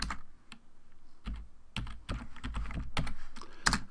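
A folder name being typed on a computer keyboard: close, uneven bursts of key clicks and taps, picking up toward the end, alone without talk.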